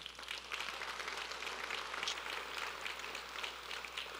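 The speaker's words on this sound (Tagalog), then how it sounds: "Sige nga, sambahin natin ang Panginoon sa palakpak natin." Congregation clapping together during a Sunday morning church worship service, a steady, dense patter of applause heard faintly and from a distance for several seconds.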